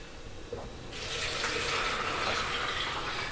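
Homemade water kefir liquid being poured through a strainer makes a steady, close splashing rush that starts abruptly and keeps a constant level, with no talking.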